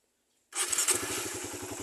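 A carbureted Suzuki Raider 150 motorcycle engine starts after a half-second of silence, catching quickly into a loud, close, steady idle with a rapid, even putter.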